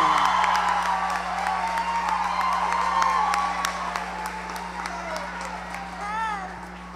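An audience applauds at a live acoustic concert, dense clapping with some cheering and whoops. A voice talks over it near the start, and the applause fades slightly toward the end.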